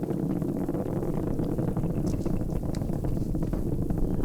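Falcon Heavy rocket in flight, all 27 Merlin engines firing at once, a steady, dense low roar and rumble that stays loud and unbroken throughout, with wind buffeting on the microphone.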